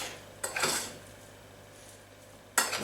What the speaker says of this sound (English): the tuna's tin tuna, so it's already cooked, so you just need to stir it through to get it warmed